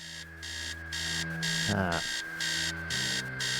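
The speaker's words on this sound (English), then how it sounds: "Upstairs, the sound of an alarm clock blaring." An alarm clock blares from upstairs in the Stories Untold video game, a loud repeating electronic beeping in steady on-off bursts over a low droning hum, heard alone without talk.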